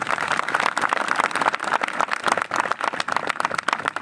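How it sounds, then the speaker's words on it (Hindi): A church congregation claps loudly in thanks to God at a Hindi-language worship service, a dense, steady patter of many hands close by, sustained for the whole stretch without letting up. "ऐसे महान परमेश्वर के लिए जोर से ताली बजा के धन्यवाद दें"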